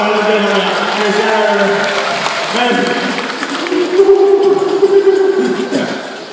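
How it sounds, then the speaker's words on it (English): Scattered clapping and crowd noise rise under a speaking voice, with the applause swelling toward the end. "Give him a round of applause."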